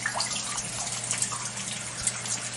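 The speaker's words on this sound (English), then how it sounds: "we are here at the famous Fountain of Youth getting the water." Water flowing at the Fountain of Youth in St. Augustine, a steady close splashing and trickling stream with a few brief brighter drips, heard alone.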